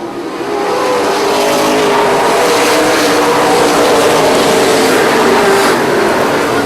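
A pack of super late model race cars roaring around a track at green flag, a dense, loud, continuous engine drone with overlapping revs swelling slightly as they pass.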